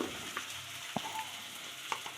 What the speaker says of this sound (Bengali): এরপর এগুলো ভালোভাবে কষিয়ে নিতে হবে।